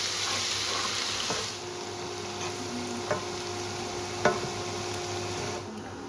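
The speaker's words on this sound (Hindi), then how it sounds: "अदरक लहसुन का पेस्ट जो है इसको भी हम फ्राई कर लेंगे" Ginger-garlic paste frying in a pan with cumin for a Kashmiri chicken dish, a continuous hissing sizzle with a few sharp spoon taps and scrapes, close and steady, no talking.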